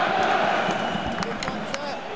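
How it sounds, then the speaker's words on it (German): Football stadium crowd at a Kickers Offenbach match greets substitute Lukas Hermes with a broad, mid-distance roar and scattered shouts, steady throughout under no clear speech. "Lukas Hermes wird jetzt auch nochmal begrüßt vom Publikum."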